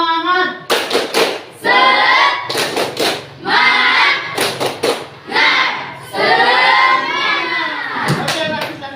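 A group, likely in a school or classroom setting, performs a rhythmic spirit clap, with bursts of loud hand clapping interleaved with chanting voices and shouts, close and lively throughout.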